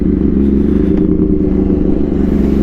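A motorcycle rides a rough, flooded, muddy road, its engine droning loud and steady throughout with faint clatter over the rumble, no voices.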